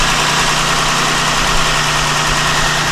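A Jeep Commander engine idles after a PCV valve replacement, giving a steady, loud, close rumble with a light ticking clatter running through it.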